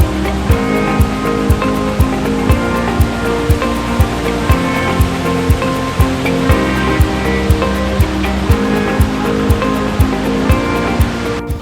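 Water rushing and crashing between rocks near a waterfall at Munnar, a loud continuous roar with close, rhythmic splashing surges throughout.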